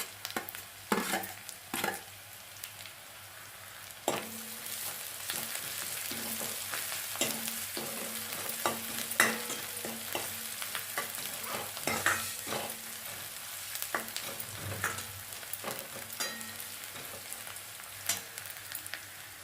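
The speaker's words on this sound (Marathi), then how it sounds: "ह्यामध्ये अद्रक, लसूण, जिऱ्याची पेस्ट घालते।" Ginger, garlic and cumin paste fries in a pan for a dal fry, with a steady soft sizzle under repeated sharp scrapes and knocks of a spoon stirring it, close by and with no voices.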